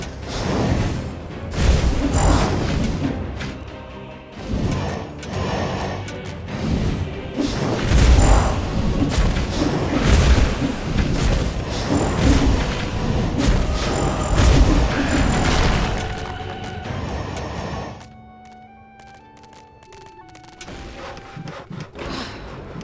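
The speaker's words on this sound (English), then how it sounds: "These cowardly dwarves have actually blown up the bridge." Dwarves blow up a bridge in Dungeons 3, a long stretch of loud crashing booms, cracking wood and rumbling debris that rolls on for many seconds before dropping away to a quiet ambient tone.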